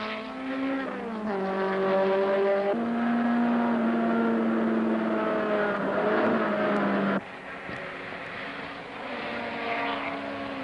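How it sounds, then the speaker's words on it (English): A race car engine roars continuously around a track, its pitch climbing then dropping sharply at each gear shift, fairly distant and steady. "listen to the car all the way around the track and hear John shifts precisely at each point"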